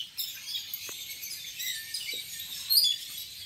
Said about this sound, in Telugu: వీటినేమో పీచ్ పేస్ట్ లవ్ బర్డ్ అంట, ఆఫ్రికా నుంచి ఎక్స్పోర్ట్ చేశారు.